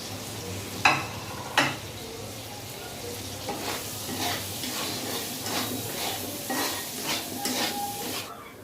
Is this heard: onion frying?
yes